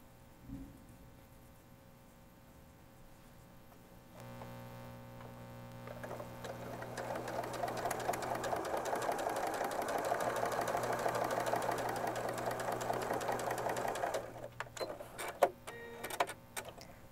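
A sewing machine stitches quilt pieces, starting quietly, then running in a steady fast rhythmic hum for several seconds before stopping with a few clicks.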